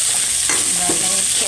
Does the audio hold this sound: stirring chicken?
yes